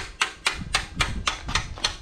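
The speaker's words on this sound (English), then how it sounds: "Keep hammering." Hammering during disassembly of a 1972 Buick Skylark's 455 big block engine: seven sharp metallic blows in a steady rhythm, close and loud, about a quarter second apart, with no talk.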